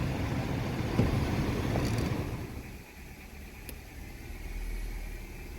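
A Honda Civic with the AC compressor switched on idles in a low, steady engine hum that settles slightly lower midway, with faint wind and outdoor noise around it.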